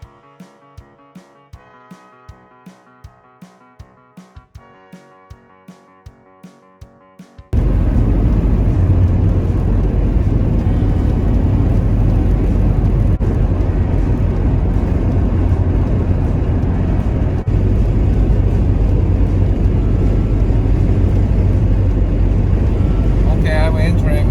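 A 1993 Jeep Cherokee converted into a camper moves off on the road. A steady run of light ticks gives way abruptly to a loud, constant roar of engine, road and wind noise that holds to the end.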